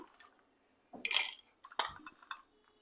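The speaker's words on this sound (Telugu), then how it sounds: "ఒక మిక్సీ జార్ తీసుకొని" A mixer grinder jar is lifted in a home kitchen while a bottle gourd curry is prepared, giving a few brief, close clinks and knocks of metal and glass against a quiet background, with no talking.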